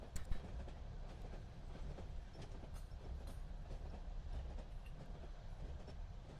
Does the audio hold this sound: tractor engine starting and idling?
no